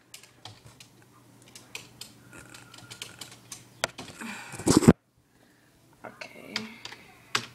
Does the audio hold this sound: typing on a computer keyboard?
yes